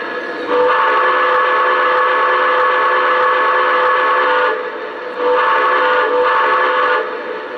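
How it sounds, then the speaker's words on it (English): A loud model-train steam whistle sounds in two long blasts, the first held several seconds, the second shorter after a brief pause. "So let's try the whistle."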